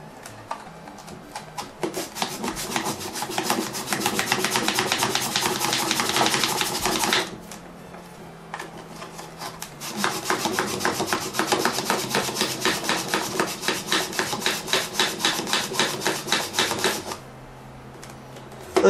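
A Nintendo 64 cartridge is buffed with a cleaning card in two long bursts of quick, dry back-and-forth rubbing strokes, close and crisp, separated by a short quiet pause.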